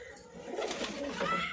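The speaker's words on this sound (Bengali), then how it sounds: "এ হচ্ছে লাল ফুল মাদি আমার খুব রেয়ার পায়রা" A brief, soft coo from a red-flowered female pigeon, low and throaty, heard close up against light background noise.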